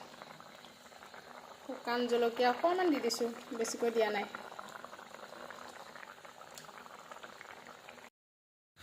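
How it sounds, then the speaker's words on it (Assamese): A mustard fish curry with potatoes bubbles steadily in a pot close by, a soft continuous simmer that runs under a woman's speech before cutting off abruptly near the end. "এয়া দেখিছেনে উতলি আছে"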